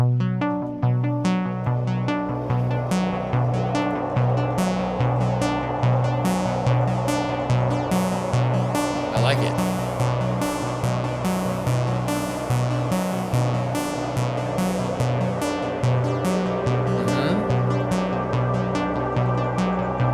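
A sustained synth pad with a layered chord and steady pulsing rhythm, its tone slowly brightening and darkening as an LFO sweeps the filter over eight bars.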